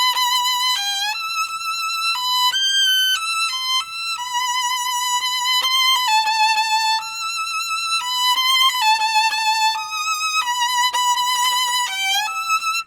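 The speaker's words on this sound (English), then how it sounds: "I can play the beginning of the Mendelssohn concerto with one color." The opening of the Mendelssohn violin concerto on a solo violin, played with one unchanging tone colour, a clear singing melody of sustained and stepping notes heard alone without talk.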